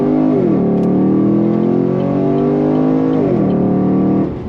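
A 2017 Chevrolet SS V8 sedan with a 6-speed automatic accelerates hard, its engine note climbing loudly, dropping at a gear change, then climbing again through another shift, heard up close and alone.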